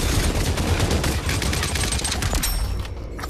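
Sustained gunfire in the Population One VR battle royale game, a dense continuous volley of shots that stays loud throughout and eases slightly near the end, with no talking.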